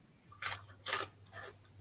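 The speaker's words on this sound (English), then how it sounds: "Especially with crunchy chips." Someone crunching Ladybird chips, three separate crisp bites or chews spaced about half a second apart, close and fairly quiet over a low steady hum, with no voices.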